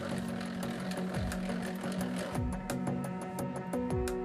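Pasta dough fed through a pasta rolling machine, a continuous mechanical hum and whir with rhythmic clicking and periodic thumps as the rollers turn, steady and close.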